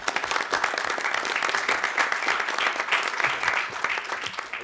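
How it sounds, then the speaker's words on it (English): A council governing body meeting breaks into a steady round of applause, many hands clapping together for several seconds, fairly even and moderately loud, with no talking over it. "You want to give them a round of applause?"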